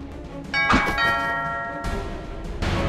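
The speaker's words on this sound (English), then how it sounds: "The doorbell rings." A doorbell chimes in an anime-style Guilty Gear story scene, its bright ringing tone with sustained harmonic overtones starting about halfway through and fading, followed by further soft knocks or thumps near the end.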